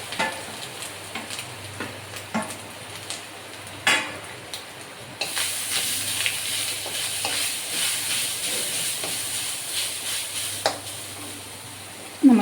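Mustard seeds, onion and curry leaves frying in a pan for a Kerala thoran, a close crackling sizzle that grows louder and denser partway through, with scattered stirring knocks and no voice.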